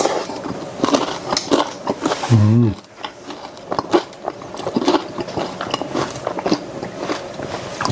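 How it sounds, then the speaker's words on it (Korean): Crunchy bites and chewing of bread spread with strawberry jam, heard close up as irregular crackly mouth sounds with a short hum partway through. "이 딸기잼을 빵에 발라가지고 먹으면서"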